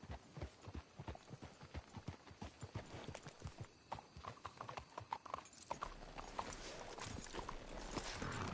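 Horse hooves clip-clop in a steady, brisk rhythm in a PS4 video game, loud and close throughout, with a brighter rush of noise rising near the end.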